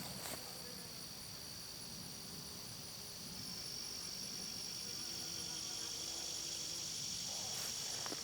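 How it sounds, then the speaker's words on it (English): A large hornet buzzes around a summer vegetable garden, a low droning hum over a steady bed of chirping crickets and insect noise, continuous and moderately close. "Oh, there's that hornet."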